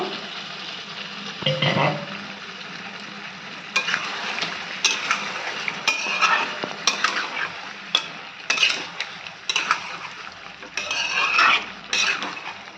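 Chicken poppy seed curry with cashew paste and a splash of water being stirred in a pan: repeated metal spoon scrapes and clinks over a low sizzle, close by, with no talking.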